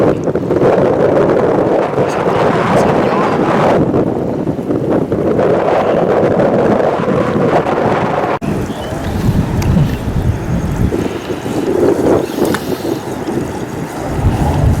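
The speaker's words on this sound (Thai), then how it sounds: "วันนี้ลมแรงมากนะครับ ลมแรงมาก" Strong wind buffets the microphone beside a reservoir where someone is lift-net fishing, a loud continuous roar with gusty surges and lapping water, no talk.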